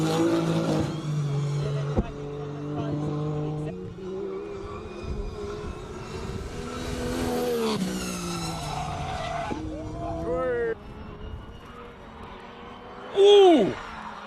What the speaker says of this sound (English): Long launch and wheel spin all the way up the track.